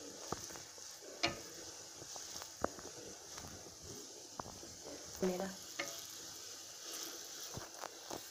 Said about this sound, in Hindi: ऐसे हम इसको चलाते रहें।